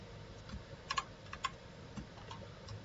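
Someone types on a computer keyboard while setting up a unit test in Eclipse: a few faint, sparse key clicks in a quiet room, with no voices.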